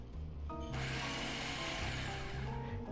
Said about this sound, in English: Pulse until just combined.